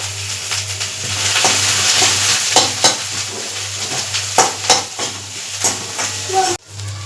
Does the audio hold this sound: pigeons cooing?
no